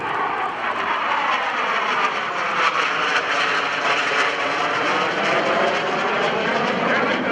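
A McDonnell Douglas A-4 Skyhawk jet roars steadily overhead at an airshow, a broad continuous engine rush that holds strong throughout with no voices.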